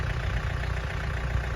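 Tractor fitted with a grapple, working at a sawmill shed build with poplar logs, runs with a steady low engine drone, close and continuous without a break.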